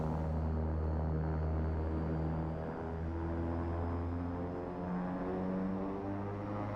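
Propeller aircraft engine in the X-Plane 11 flight simulator, droning steadily and loudly at takeoff power, with a strong even hum and no other sounds on top.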